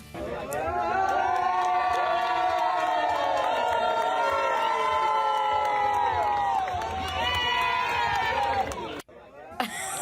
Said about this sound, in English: Watch as one bar in New Orleans cheered on a young boy showing off his new party trick